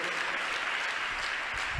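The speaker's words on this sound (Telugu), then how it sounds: "కొట్టు కొట్టు చప్పట్లు కొట్టు." A church congregation claps at a sermon, producing continuous, dense applause that stays fairly even and moderately loud, with a faint low thump near the end.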